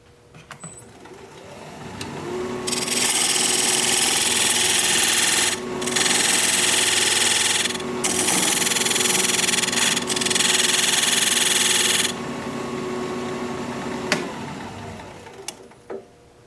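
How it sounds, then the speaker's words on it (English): A wood lathe spinning as a diamond point tool squares the sides of a tenon, with a steady motor hum under bursts of loud, hissing cutting noise that stop and restart several times before the machine winds down, close and without talk. "Now I'm going to raise up my tool rest and use this diamond point tool to square up the sides of the tenon"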